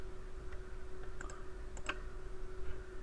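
Mouse clicks on the Evaluate button in 3ds Max, a few faint, sharp clicks in the middle over a low steady hum of room noise.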